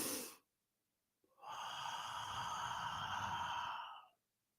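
One deep breath in a guided breathing exercise: a short sharp intake, a pause of about a second, then a long, steady breathy exhale lasting roughly three seconds, close and clear with no talk.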